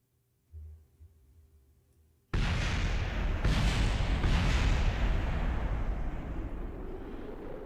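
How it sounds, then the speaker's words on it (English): Explosions roar during spacecraft re-entry in a space flight sim game: after a quiet start with a low thump, a sudden loud sustained rumbling blast erupts and continues with a few stronger bursts, no talking. "some stuff is exploding because, well, re-entry is still pretty hot"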